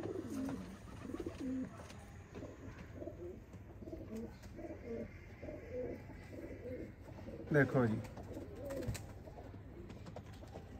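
Pigeons coo steadily in a repeated rolling rhythm, close and moderately loud, from a collection of rare old pigeons kept by an enthusiast; someone speaks briefly over the birds.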